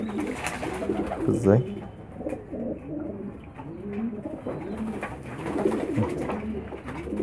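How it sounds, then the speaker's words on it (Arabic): Pigeons coo steadily in the foreground, a flock bathing in winter weather, with soft wing flutters mixed in and a person speaking over them now and then. "شوف السعادة بتاعت الحمام، السعادة بيرفرف بجناحاته سعيد"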